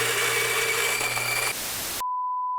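A Mahlkonig EK43s coffee grinder runs loud and steady with a dense, harsh whir for about a second and a half, then cuts out, followed by near silence and a clean electronic beep tone.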